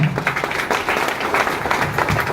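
Audience clapping during a motivational stage talk, a dense, steady burst of applause that swells and pulses through the whole moment.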